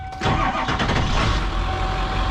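A diesel engine in a converted bus cranks and catches, settling almost immediately into a loud, close, rough idle that rumbles on steadily.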